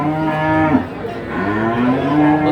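A young cow at a cattle market in Tuban lets out loud, close, drawn-out moos, two long calls one after the other, with market noise behind them.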